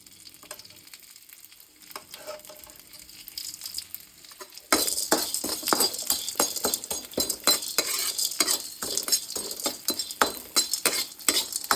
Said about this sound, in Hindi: देखो कढ़ाई गर्म है, एकदम से हो जाएगा फ्राई।